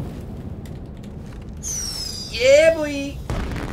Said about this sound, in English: Let's test our firework out.